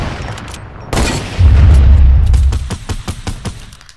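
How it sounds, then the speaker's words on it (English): Video game gunfire: a sharp shot, then a heavy booming burst followed by a string of rapid, crisp shots tapering off, loud and close. "My god, dude, stop shooting"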